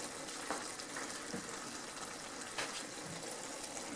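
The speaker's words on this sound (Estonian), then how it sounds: "nüüd ma kallan talle siis vee peale, aga vee ma kallan peale keeva vee" Boiling water pours steadily over carrot pudding made with pearl barley and salt pork, a continuous close gushing hiss with faint sizzling crackles throughout.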